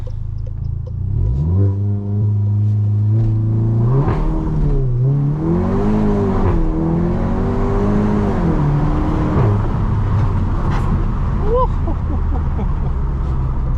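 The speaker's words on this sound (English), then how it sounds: "So let's give it a little launch." A Volkswagen Golf GTI MK7.5 launches from a standstill, its engine rising through revs with a gear change midway and a loud, close rumble heard from inside the cabin with the windows partly down, ending in a brief whistle.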